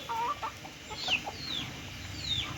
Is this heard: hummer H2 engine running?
no